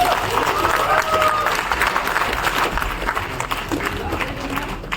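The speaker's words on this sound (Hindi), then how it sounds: "सर के लिए जोरदार तालियां" A seated audience at a direct-selling seminar gives a speaker a dense, sustained round of applause, loud and continuous with a few voices mixed in.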